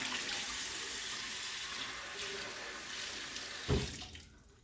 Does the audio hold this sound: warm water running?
yes